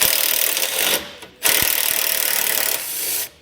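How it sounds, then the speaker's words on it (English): A hand tool working on the bumper beam bolts of a 2019 vehicle during a base plate setup, giving a loud rasping, ratcheting run that pauses briefly twice before starting again, close up and with no talking. "we can remove the bumper beam bolts"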